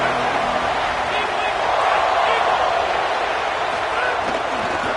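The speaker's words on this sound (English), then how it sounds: "This crowd ready to make its presence known." Stadium crowd roar from the College Football 27 video game during a Georgia versus Indiana matchup, a steady dense wash of cheering that holds loud and constant, with a play-by-play commentator talking over it.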